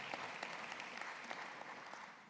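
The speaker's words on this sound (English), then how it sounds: "round of applause" An audience claps at a Thursday event with MP Frank McGuire, a faint, even patter of many hands sustained for a couple of seconds.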